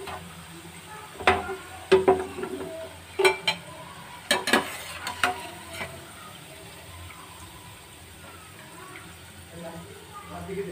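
Onion pakoda fry in hot oil and are lifted out, a soft bubbling sizzle broken by several sharp clinks and scrapes of a utensil against the pan, with a voice talking over it.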